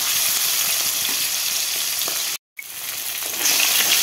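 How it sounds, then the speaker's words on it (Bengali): Steady, dense sizzling of fish heads frying in hot oil, loud and close, with a brief silent gap partway through before the crackle resumes. "এই দেখুন মাছের মাথা ভাজা হয়ে গেছে,"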